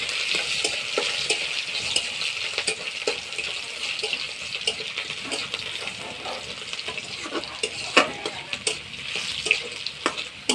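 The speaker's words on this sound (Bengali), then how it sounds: "তেলটা গরম হয়ে গেছে, ফোড়ন দিয়ে দেবো গোটা জিরে, শুকনো লঙ্কা, তেজপাতা" Whole cumin, dried red chilli and bay leaf temper in hot oil, a close, crackling sizzle dotted with frequent sharp pops and spatter, plus occasional stirring clicks against the pan.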